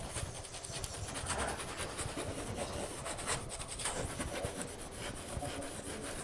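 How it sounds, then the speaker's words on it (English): A painting knife scrapes oil paint onto canvas for a desert landscape, making a continuous close, raspy rubbing texture with repeated strokes and no talking. "I'm just scraping this in"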